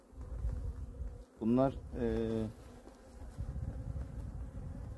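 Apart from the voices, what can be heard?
honeybees buzzing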